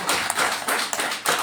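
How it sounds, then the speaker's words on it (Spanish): Sharp hand claps from a church congregation, a few distinct bright bursts spread across a short moment, fairly close and loud. "Denle un fuerte aplauso al Rey."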